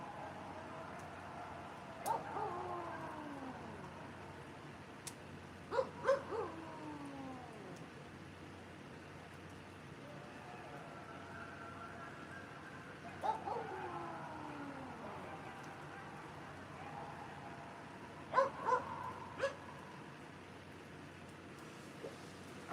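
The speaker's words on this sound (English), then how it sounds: "Y'all, them coyotes is right there." Coyotes yip and howl in a few scattered bursts of high, wavering, falling cries at middle distance outdoors in Mississippi, separated by quiet stretches with faint background noise.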